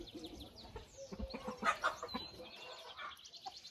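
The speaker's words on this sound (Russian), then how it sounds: "Красивый большой петух." A large, broad rooster and hens clucking and calling close by on a farm, a run of short overlapping clucks with a brief louder call in the middle, no talking.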